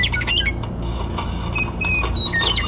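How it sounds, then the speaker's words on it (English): Birds squawk and chirp in short bursts over a steady low rumble, with a few sharper calls standing out near the end, at night outside the Cecil Hotel. "Birds."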